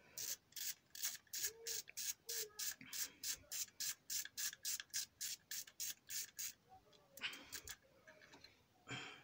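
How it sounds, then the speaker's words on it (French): A ratchet fitted with an 8 mm socket loosens a bolt on the vacuum pump of a Citroen 2.2 HDI engine, giving a fast, even run of close, crisp clicks that stops, followed by a few faint clicks. "On enlève la première vis."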